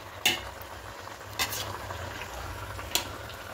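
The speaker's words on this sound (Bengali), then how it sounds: "খুব ভালো করে মশলার সঙ্গে কষিয়ে নিয়েছি" Black pepper chicken being stir-fried with spices, giving a soft continuous frying hiss broken by three sharp scrapes of a spatula against the pan.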